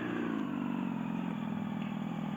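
A motorcycle engine in neutral gear revs steadily, a constant mid-pitched drone with no break, fairly faint and with no voices.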